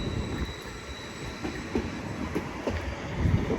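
A train passes through Chelmsford station on the Great Eastern Main Line, giving a steady broadband rumble with faint clicking wheel beats and brief metallic squeals, moderately loud and continuous with no talk.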